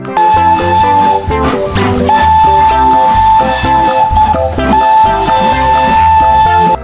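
Toy Thomas train playing a loud steam whistle effect over a bouncy electronic tune, close and continuous with repeated whistle tones.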